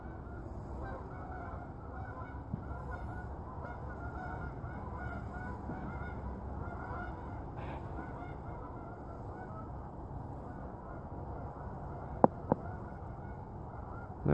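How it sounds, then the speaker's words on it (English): Distant geese honking in short bursts high overhead, faint and spaced out over a steady background hum, with a couple of sharp clicks near the end. "That's actually some geese flying through the area."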